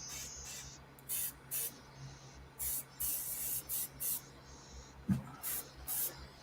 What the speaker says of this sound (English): I just want to get this color out of my airbrush.